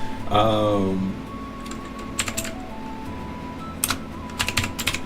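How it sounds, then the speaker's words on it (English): Short clusters of keystrokes on a new computer keyboard, close and crisp, following a brief tonal sweep, with a steady background hum and sparse clicks between bursts. "I also got a new keyboard. I got a new keyboard finally."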